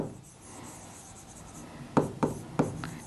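Chalk or marker writing on a board during a botany lecture, three quick, sharp scratchy strokes in a row after a quiet stretch of faint room noise.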